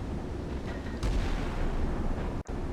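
A warship's deck gun and missile launches in the Sea Power naval game rumble as a loud, continuous wash of heavy firing and roaring blasts, with a brief sharp cutout near the end and no voices.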